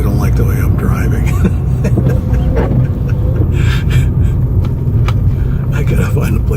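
A car drives through narrow streets in France, its engine and road rumble steady and close throughout, while someone talks over it.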